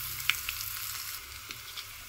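Chana dal, crushed garlic, dried red chilies and asafoetida sizzle in hot oil for a tempering, a soft continuous hiss with a few faint ticks and pops, close but quiet, no voices.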